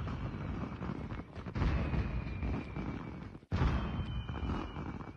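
Fireworks going off in a Call of Duty game's Christmas event, a continuous loud roar of overlapping blasts and crackles with a brief drop near the middle before the barrage resumes.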